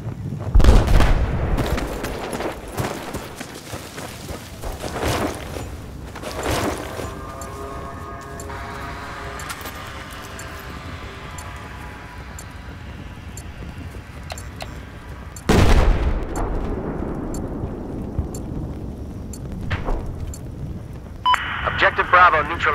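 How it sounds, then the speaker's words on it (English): Gunfire and explosions from a Battlefield 4 multiplayer match, with sharp bursts early on, a sustained rumbling stretch in the middle and another loud blast near the end, mixed with game radio chatter. "Got a hostile machine gun."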